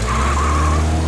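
A cartoon ice cream truck screeches as it skids away, a loud steady tire squeal over a continuous engine rumble.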